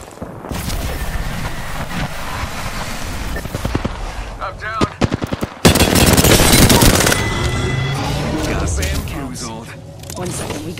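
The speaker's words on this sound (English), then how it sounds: "Opening fire." Gunfire in the video game Apex Legends, with rapid automatic bursts and single shots that rise into a loud, dense barrage in the second half, while a voice talks over the action.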